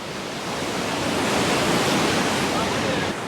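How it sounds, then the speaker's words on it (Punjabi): A mountain stream in the hills of Himachal Pradesh rushes past nearby with a loud, steady, hissing roar of flowing water that continues without a break. "ਪਾਣੀ ਚੱਲ ਰਿਹਾ ਪਾਣੀ ਦੀ ਆਵਾਜ਼ ਹੈ ਉਰੇ"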